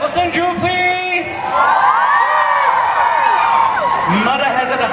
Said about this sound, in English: Can we cheer for Sunju